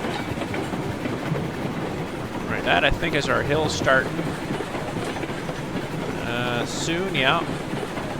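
Climax steam locomotive in the railroad game Railroad Online, a continuous rumbling chug with clanking that stays close and steady while two people talk over it.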